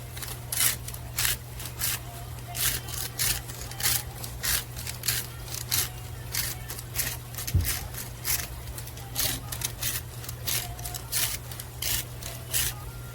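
A hand grinder cranks Mediterranean salt onto meat in a steady series of close, gritty rasping bursts, repeating rhythmically for several seconds over a low background hum.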